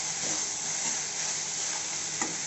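Jackfruit curry with asafoetida in tamarind sauce being stirred in a pan, a steady close sizzle and hiss with faint scraping stirs, no talking.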